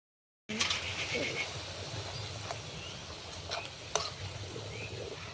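Oil sizzles steadily as onion-stalk pakoras fry, a dense crackling hiss with a few sharp clicks and clinks of utensils; faint voices murmur in the background.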